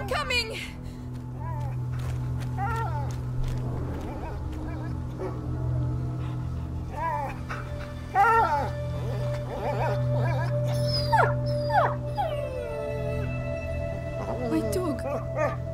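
A dog whimpers and yips in distress in the game A Plague Tale: Innocence, close and intermittent, with short barks and a steady hum underneath.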